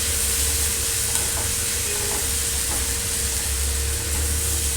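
Onions, green chillies and a bay leaf sizzle and hiss in a pan for paneer do pyaza, with a loud, even frying noise throughout and faint stirring scrapes.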